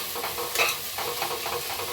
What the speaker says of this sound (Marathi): थोडीशी तेलात परतून घेते.